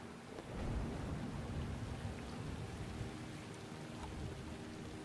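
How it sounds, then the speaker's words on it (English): Steady rain with low rumbling thunder in the puzzle-platformer game Max: The Curse of Brotherhood, a continuous soft wash of falling water under a faint rolling rumble, with no talk. "So now it started raining"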